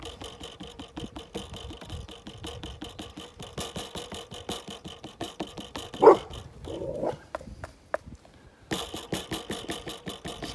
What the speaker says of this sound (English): That's why Bert's barking